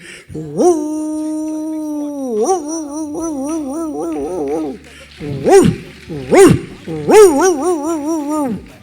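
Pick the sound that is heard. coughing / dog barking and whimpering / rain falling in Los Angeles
dog barking and whimpering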